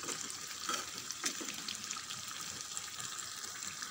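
Chicken pieces for a curry fry in a pan with a soft, steady crackle and hiss, low in level and continuous, with occasional faint scrapes of stirring.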